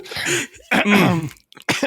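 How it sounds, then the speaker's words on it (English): A person coughs and clears their throat in two or three harsh, close bursts, loud and dry, with a short gap between them, recorded on a podcast microphone. "Dude, cough it out."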